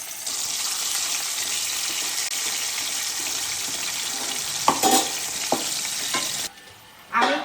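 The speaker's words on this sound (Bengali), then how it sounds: "এই যে আলুগুলো আমি খুব ভালো করে ভেজে নেবো, তেলটা গরম হয়ে গেছে।" Large potato chunks frying in hot mustard oil for a chicken curry, a steady dense sizzle running close and loud, with a few stirring knocks near the end before it briefly drops away and returns.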